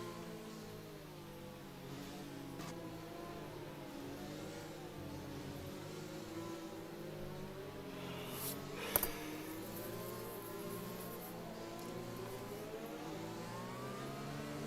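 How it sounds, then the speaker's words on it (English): Race car engines drone and rev in a racing video game league session, a continuous mid-pitched whine shifting with throttle, steady at moderate level with one brief sharp knock near the middle. "And there the car is very close."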